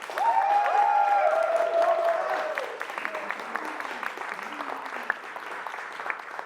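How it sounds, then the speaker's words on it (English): A live studio audience breaks into applause, a dense burst of clapping that swells loudly at first, then thins and fades over several seconds. "Please give yourselves a round of applause."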